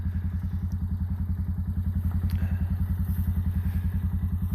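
A four-wheeler ATV engine idles and chugs steadily nearby with a rapid, even thumping rhythm, running alone at moderate volume on a sheep pasture.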